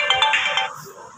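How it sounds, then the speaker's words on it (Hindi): An incoming-call ringtone on a phone chirps in a short bright melodic burst, fairly close, then cuts off and leaves a faint room murmur. "मानव का फोन आ गया है और मैं अभी सुन रही हूँ।"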